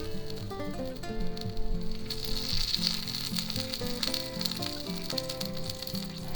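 Onions hit a hot grill beside a ham, cheese and tomato sandwich and sizzle loudly and steadily up close, with some faint clinks and scraping.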